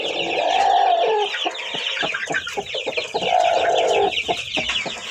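A broody hen clucks in a hatching shed among newly hatched chicks, two longer drawn-out clucking phrases with shorter scattered clucks and chirps between them, close and clear.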